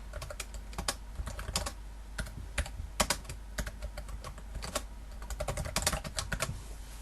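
Fingers type on a computer keyboard in a dense run of close, crisp clicks for about seven seconds. The pace is steady and the keystrokes come alone with no voice.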